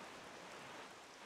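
Steady rain in the game The Legend of Zelda: The Wind Waker HD, a soft, even hiss of falling rain with no distinct drops or voices, faint and continuous.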